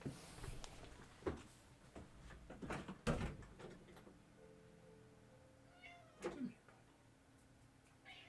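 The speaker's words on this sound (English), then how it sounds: "I hear cats." A cat meows a couple of times, fairly faint and a little distant, amid scattered thumps and rustling in a quiet room.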